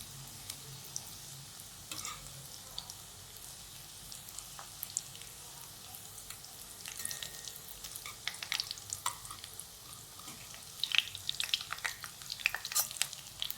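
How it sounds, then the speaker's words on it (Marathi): Coriander vadi frying in oil over a low flame, a soft steady sizzle with scattered crackles and pops that grow a little busier toward the end, with no talking. "बारीक गॅसवर अशा सगळ्या वड्या मी तळून घेते"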